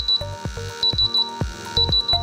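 A QRAE 3 gas detector sounding its alarm: rapid, loud electronic beeps in repeated bursts, close by, with no talking.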